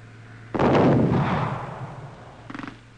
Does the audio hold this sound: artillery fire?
yes